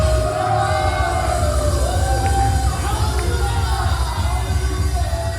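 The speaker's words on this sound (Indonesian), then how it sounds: "Mari kita berikan tepuk tangan yang paling dahsyat." A youth church congregation cheers and whoops in a continuous crowd roar, with shouts rising above a steady wash of noise and some applause.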